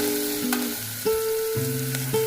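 Vegetables sizzling steadily in a hot pan, a continuous frying crackle close by with no talking.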